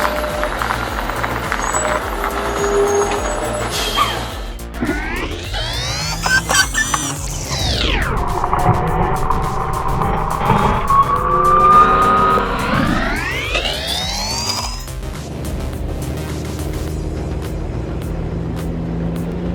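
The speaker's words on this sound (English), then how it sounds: "On the winding mountain pass, the powerful timber truck moved forward." A heavy timber truck with its bed full of huge logs labours up a winding mountain pass. The engine groans loudly, its pitch sweeping up and down through gear changes, with clattering and hissing around it.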